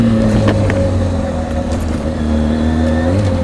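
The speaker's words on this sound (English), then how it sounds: "Go see if I can't bust a little tunnel exhaust real quick." A motorcycle's exhaust drones steadily inside a freeway tunnel, a loud continuous engine hum with faint rises in pitch that hold through the whole stretch and swell slightly near the end, with no talk.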